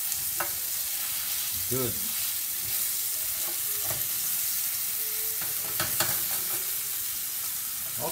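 A steak frying in a pan for steak pizzaiola, a steady sizzle running throughout with occasional clinks and scrapes of stirring, and a brief word spoken once.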